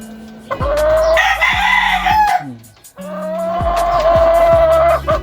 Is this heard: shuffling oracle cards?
no